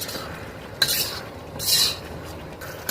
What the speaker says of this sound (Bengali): মাংসটা আমাদের সুন্দর করে কষানো হচ্ছে